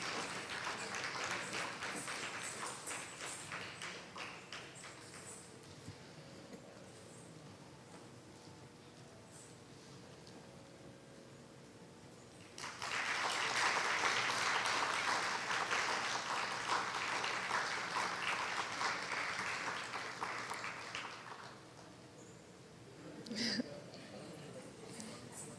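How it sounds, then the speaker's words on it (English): Applause for a full orchestra and gurus at a stage performance: a steady crowd clapping swells loud midway and fades near the end, with faint murmur underneath. "Let's hear one more round of applause for the full orchestra and gurus for their amazing help today."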